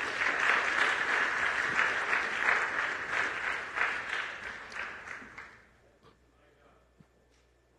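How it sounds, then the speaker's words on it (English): Church congregation applauds a group of boys during a Sunday sermon, a dense, steady wash of clapping that holds strong for several seconds before thinning out and fading to near silence. "Clap for these boys"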